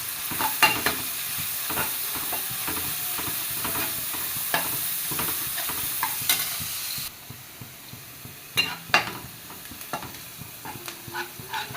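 Onion and ginger fry in coconut oil in a pan, a constant close sizzle broken by frequent scraping stirs and spoon knocks; the sizzle softens partway through as stirring continues.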